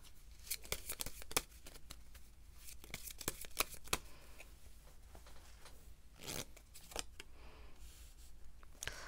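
Tarot cards shuffled and drawn, a steady close run of soft riffling and flicking with sharper card snaps, quiet and without talk.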